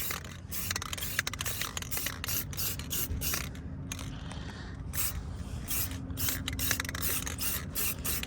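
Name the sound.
spray can of gloss black paint spraying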